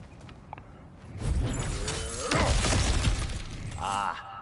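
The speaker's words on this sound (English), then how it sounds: "back to smashing through things for fun and profit" Objects shattering and breaking apart in God of War Ragnarok, with a loud crash and debris clatter, followed by a second heavy smash and scattered rumbling impacts under faint game ambience.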